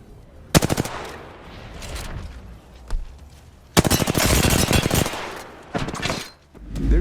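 Gunfire in the battle royale game Apex Legends: short automatic bursts, a lone shot, then a longer loud volley followed by further bursts, all close and punchy.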